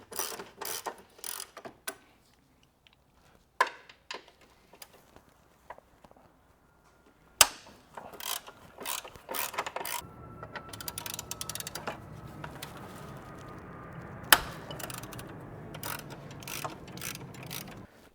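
Ratchet wrench cranking on stuck bolts during an ABS delete kit install on a right-hand-drive FD3S Mazda RX-7, sparse clicks at first, then dense rapid ratcheting with mechanical rattles, close and fairly loud, no talk.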